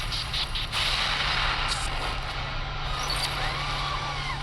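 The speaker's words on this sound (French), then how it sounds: "Ça, c'est de l'explosion." An explosion in a played-back video clip: a loud, continuous roar of blast noise with a deep rumbling low end fills the whole stretch, with no voices.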